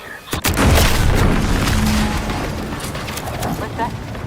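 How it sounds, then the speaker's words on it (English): An explosion in the video game Outer Worlds 2 hits as a sudden sharp boom, then a long, loud rumble that slowly fades. "What's that? An explosion?"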